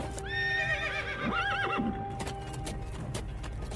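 A troop of cavalry horses whinnies loudly with rising and falling neighs over a steady hoofbeat clatter, followed by scattered clip-clops as the neighing fades.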